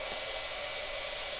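An embossing heat tool blows a steady, even whoosh of hot air close by, heat-setting embossing powder, with no voices.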